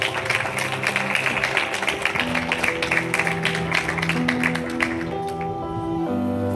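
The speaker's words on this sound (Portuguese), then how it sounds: "Aplauda o nome de Jesus." A church congregation claps during a thanksgiving worship service, with rhythmic clapping over sustained keyboard or organ chords.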